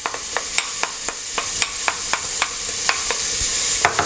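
Herbs stirred into melting butter over low heat for moules marinière, a soft continuous sizzle punctuated by regular sharp spoon taps against the pan, close and without speech.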